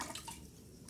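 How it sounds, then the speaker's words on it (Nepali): Under a second of faint water trickling and splashing into a cooking pot, heard at a distance and with no voices. "पानी अलिकति राखौँ यहाँ"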